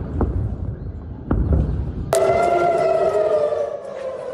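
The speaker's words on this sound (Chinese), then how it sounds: "以色列台拉维夫周四再度响起空袭警报" An air raid siren sounds in Tel Aviv, Israel, rising suddenly after a few dull thumps into a loud, steady wail that holds alone.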